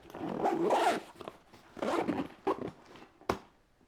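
A Kiboko City backpack zipper pulled closed in a few quick strokes, a long rasping zip followed by shorter tugs, close up.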